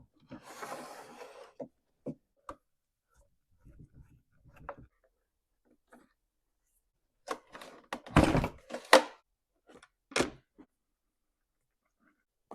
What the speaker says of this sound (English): Let's start reassembling this thing.